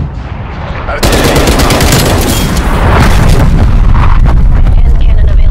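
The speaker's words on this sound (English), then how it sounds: "Hostile artillery targeting active." Heavy booming artillery fire and rapid gunfire in Call of Duty: Black Ops Cold War erupt after a brief quieter moment, continuing loud and dense throughout with a synthetic battle feel.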